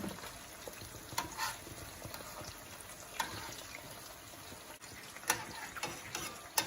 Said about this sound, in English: See that sizzling? That's just perfect.